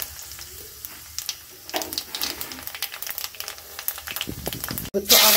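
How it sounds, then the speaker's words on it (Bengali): Nigella seeds hit hot oil in a kadai and burst into a loud, bright sizzle near the end, after a stretch of quieter kitchen clatter and background voices. "এটা গরম হয়ে গেছে, দিয়ে দেবো কালো জিরে"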